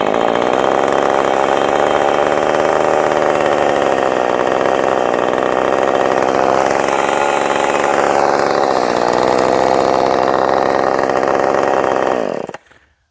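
A ported Husqvarna 450 Rancher chainsaw runs close by with a loud, steady engine drone whose pitch wavers slightly, then cuts off abruptly at the end.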